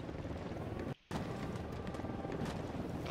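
A helicopter in the tactical shooter Ghost Recon, with a steady rotor drone and chopping wash filling the scene at moderate level, briefly cut out for a moment partway through.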